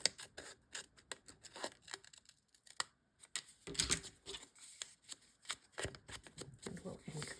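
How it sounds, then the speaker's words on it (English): Scissors snip off a piece of a paper page while making a double pocket for a vintage office-style journal, giving a series of sharp, close cutting clicks and rustles in an irregular rhythm, with quiet gaps between bursts. "And let's snip this off."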